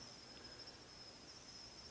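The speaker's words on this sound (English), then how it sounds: "a few crickets" Crickets chirp at night under a blood-moon lunar eclipse, giving a faint, steady, high drone that carries on without a break through a quiet outdoor background.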